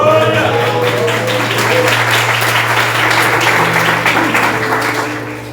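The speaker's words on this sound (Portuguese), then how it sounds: "Quantos podem glorificar a Deus com as palmas?" A church congregation claps together in worship, a loud, steady wash of applause that fills the room, with a low hum running beneath it throughout.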